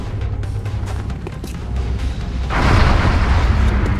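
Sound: explosion in the video game XCOM: Enemy Within

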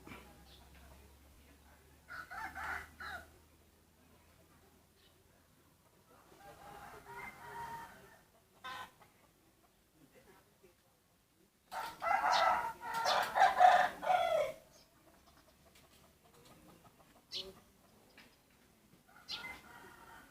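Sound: chickens clucking and rooster crowing

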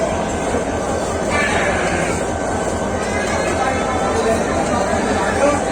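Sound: express train departing with locomotive

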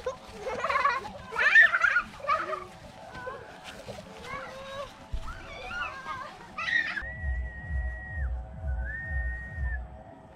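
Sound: person whistling

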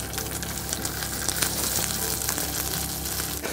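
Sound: navaga fish frying in a pan

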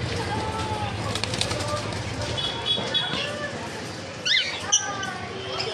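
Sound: lutino cockatiels calling

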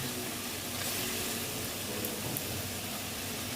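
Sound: potatoes frying in a pan for fish egg recipe

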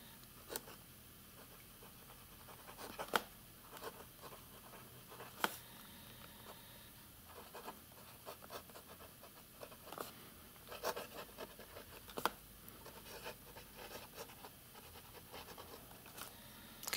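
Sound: Lamy 2000 fountain pen nib writing on coarse paper

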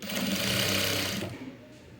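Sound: sewing machine stitching cloth

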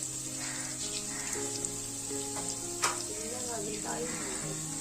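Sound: turmeric added to hot pan, frying sizzle

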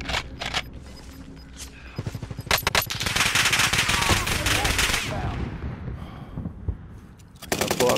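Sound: gunfire in Call of Duty Warzone video game

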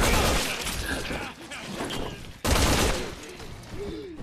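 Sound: gunfire from Resident Evil 6 video game

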